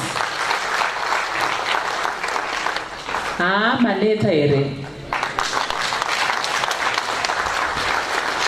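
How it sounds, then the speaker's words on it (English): A seminar audience at a ZIMRA tax education event gives a speaker another round of applause. Dense clapping runs throughout, briefly thinning as a voice calls out a name in the middle, then swelling back to full strength. "Can we give him another round of applause?"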